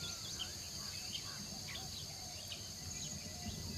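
Insects on a jungle forest floor, a continuous high cricket-like buzzing and trilling with scattered faint chirps, steady and soft throughout.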